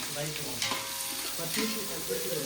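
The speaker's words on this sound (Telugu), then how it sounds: "ఈ ఆనియన్స్ వేసి ఇప్పుడు బాగా వేయించుతాం" Onions fry in a pan while being stirred for biryani, a loud close sizzle with scraping stir strokes over steady crackling.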